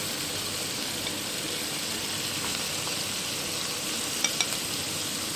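Spices frying with ginger and garlic in a pan for an egg and potato curry make a steady, close sizzle with faint stirring scrapes and no voices.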